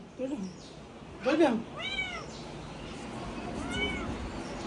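A cat being offered food meows twice, drawn-out and fairly close, with a person talking to it in between.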